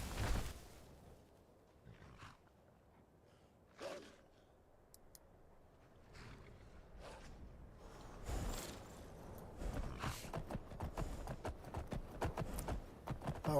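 Horse hooves clip-clopping in the Wabbajack game, scattered soft thuds at first, then a denser run of quick hoofbeats, fairly faint and with no voices.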